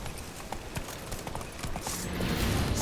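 Roach the horse gallops in The Witcher 3, hooves clip-clopping in a quick uneven rhythm over a busy ambient bed that swells toward the end.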